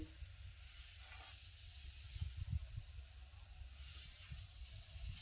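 A large masala dosa sizzles on a flat holige griddle, giving a soft, steady hiss close by, with light scraping and stirring bumps partway through.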